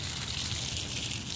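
Water poured onto garden plants such as hosta, lilies and grass: a steady, close rush and patter of water, hissing evenly throughout with no talk.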